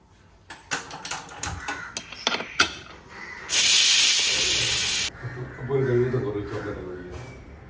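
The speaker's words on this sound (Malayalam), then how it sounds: "കുക്കർ അടുപ്പത്ത് വെച്ചതും വിസിൽ കേട്ടതും ഒരുമിച്ചായിരുന്നു" A pressure cooker cooking sambar dal lets out a loud, steady steam hiss for about a second and a half, after clattering sounds and with a voice talking afterward.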